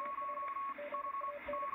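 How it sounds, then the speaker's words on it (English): A Yaesu FRG-7700 radio receiver tuned near 7.06 MHz picks up a faint Morse code signal, a steady run of short and long tone pulses keyed in an uneven rhythm over a soft hiss. "Bit of Morse."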